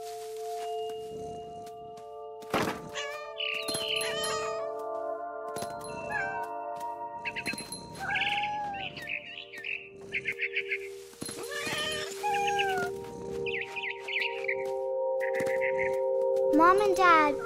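Cat meows from a cat character in the video game What Remains of Edith Finch, several short cries rising over game music and other animal-like calls, with a sharp bird-like trill near the end.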